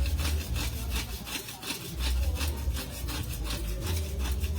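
Hand saw cutting thick wood, close and steady back-and-forth rasping strokes in an even rhythm.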